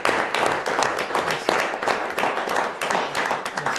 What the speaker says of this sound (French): Une main d'applaudissement pour ces deux personnes.